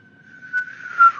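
A thin, steady whistling sound effect holds a single pitch, then swells and grows louder toward the end before dipping away, heard alone with no talk.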